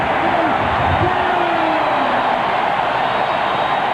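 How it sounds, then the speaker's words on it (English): A stadium crowd at a 1993 NFL game, Los Angeles at Chicago, roars steadily in cheer for quarterback Harbaugh, a dense wash of noise that carries evenly from start to finish. "So they cheer Harbaugh now."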